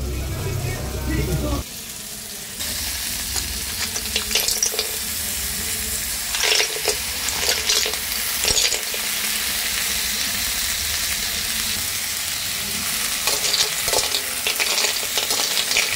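Sea shells called pulang labi sizzle and fry in a pan with spices, a steady close crackle broken by stirring clatter and splashes, with voices speaking now and then.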